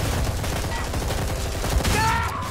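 Rapid bursts of gunfire in a first-person shooter video game set in a hallway with barriers, a dense fusillade of shots at moderate loudness with no talk over it.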